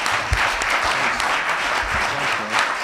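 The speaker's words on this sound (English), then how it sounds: "Let's give them a round of applause." An audience applauds panelists at the close of a business meeting, a dense, steady wash of clapping that holds at an even level throughout.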